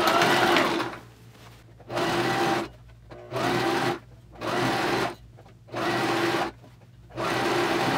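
Sewing machine stitching a zigzag seam on a fabric culinary or surgical cap, running in five or six steady bursts of a few seconds each with brief quiet pauses between them, close and clear with no talking.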